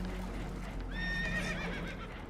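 Spooked horses neighing in Red Dead Redemption 2, a couple of shrill whinnies rising over a steady low rumble of rushing water and engine-like drone, fairly close and loud.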